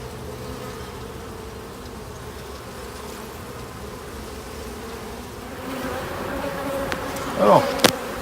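Honey bees buzz in a steady swarm around an open hive as a beekeeper joins two colonies into one; the drone stays constant and close, with a few louder passes near the end.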